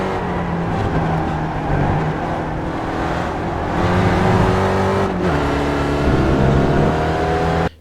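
Spec Racer Ford race car engine in the iRacing sim at Laguna Seca, droning steadily at high revs with shifting harmonic pitch as it climbs through gears, loud and continuous throughout, alone without talk, cutting off abruptly at the end.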